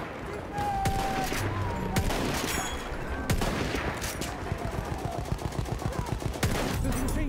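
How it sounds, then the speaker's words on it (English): Machine gun fire in the video game Battlefield 1, rapid rhythmic bursts of shots growing steady toward the end, loud amid battlefield explosions and chaos. "There's a machine gun."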